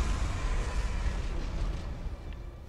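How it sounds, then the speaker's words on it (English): A deep explosion rumbles in the action role-playing video game Dark Souls, a dense, roaring low-frequency wash that stays loud throughout and fades only slightly toward the end. "Explosion."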